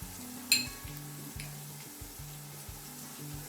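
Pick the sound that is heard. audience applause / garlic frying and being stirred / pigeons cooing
garlic frying and being stirred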